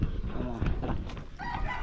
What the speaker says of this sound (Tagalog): Apat na inahin.